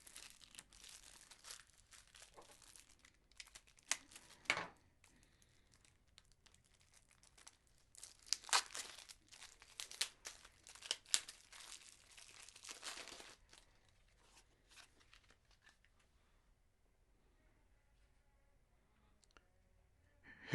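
Game cards from an Arena The Contest unboxing being flipped through, with soft crinkling, sliding and tapping of card stock in irregular bursts, faint and close, with no talking.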